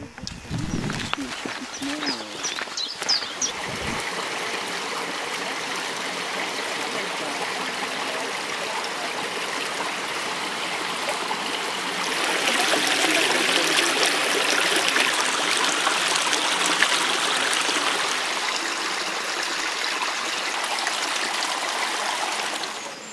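A waterfall sends out a steady, loud rush of flowing water that swells fuller about halfway through. A few low, indistinct sounds come through near the start.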